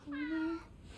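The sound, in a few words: cat meowing in the video game Forspoken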